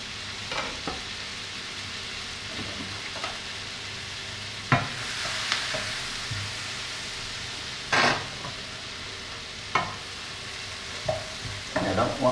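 Something softens in sizzling butter in a pan, a soft continuous fry broken by occasional scraping stirs and spoon taps against the pan, close by with no talking.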